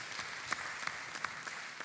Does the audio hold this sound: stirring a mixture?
no